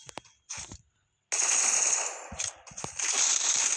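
Rapid automatic gunfire in the mobile shooter Free Fire, short bursts and single shots at first, then sustained loud sprays of fire with brief pauses between them.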